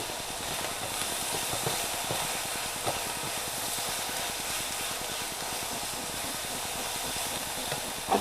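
Soy sauce sizzles in a chicken stir fry, a steady, loud hiss of frying that runs continuously and close up, with a faint clink near the end.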